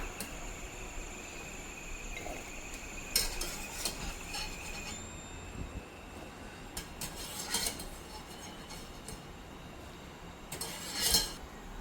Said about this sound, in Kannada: ಇದನ್ನು ಒಂದು ಪಾತ್ರೆಗೆ ಟ್ರಾನ್ಸ್ಫರ್ ಮಾಡೋಣ